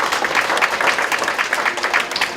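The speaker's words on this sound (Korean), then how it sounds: "큰 박수 부탁드리겠습니다." Audience applause at the eighth-cohort graduation ceremony of a management academy, a dense, steady wash of many hands clapping at even loudness throughout, with no voices over it.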